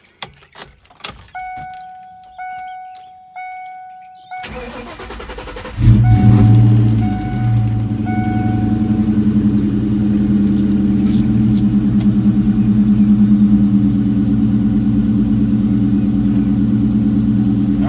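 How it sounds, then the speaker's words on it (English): A few chimes and clicks, then a 1998 Cobra's engine cranks and catches with a loud burst and settles into a steady, close idle. "let's get this car started up and make sure we're good to go"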